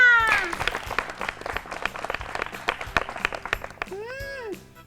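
Children in a fun-learning classroom clap for a correct answer, a lively patter of quick, uneven claps at moderate volume, with a brief voice at the start and a high vocal sound near the end.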